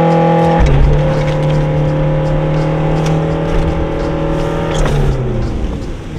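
An AWD diesel Toyota Corolla drives hard and slides through snow, its engine droning loud and close with a steady whirring tone that shifts in pitch as it swings around, no talk over it.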